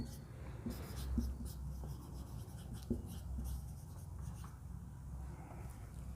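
Marker or chalk writing on a board during a chemistry lesson on penetrating orbitals, soft scratchy strokes in short bursts over low room noise, with no talking.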